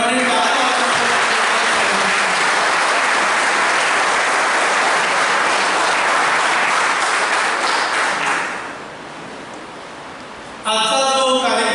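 Audience applause welcoming new students at a college student induction programme, a dense sustained clapping that fills the hall for about eight seconds, then fades to a quieter room before a voice begins speaking near the end.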